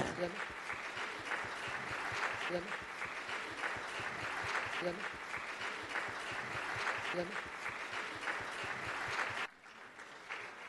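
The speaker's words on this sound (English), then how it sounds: "Let's clap." A church congregation at a Sunday service claps for a child receiving an award, a steady crowd applause that fills most of the moment with voices mixed underneath, then drops off abruptly near the end.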